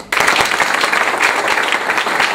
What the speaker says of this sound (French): Je voudrais qu'on l'applaudisse là maintenant